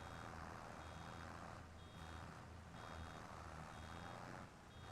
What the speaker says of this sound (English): That beep is letting me know the baler is almost full.